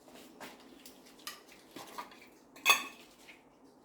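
A spoon scraping and clinking against a jar and dish while scooping mustard for a vinaigrette, a few light metallic taps and scrapes, close up, with one sharper clink near the end.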